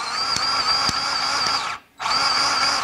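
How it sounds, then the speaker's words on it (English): A DeWalt 20V cordless grease gun pumps grease with a loud, steady motor whine and faint rhythmic ticking, cutting out briefly before starting again. "It's shooting out the grease, and that's the grease that they put in their factory."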